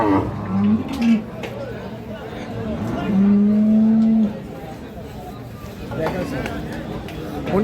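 Calves and cows lowing at a busy cattle market, several drawn-out moos including one long steady call, mixed with nearby traders talking and general crowd noise.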